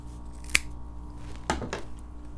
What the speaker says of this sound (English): take the excess zip tie off and then